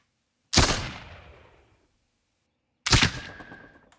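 Two loud, sharp video game gunshots, well apart, each with a booming crack and a trailing echo that fades before the next shot.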